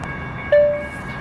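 A train sounds in a Seattle-area rail station, a low rumble with a brief tonal chime or horn note that rises suddenly and then fades over a fraction of a second.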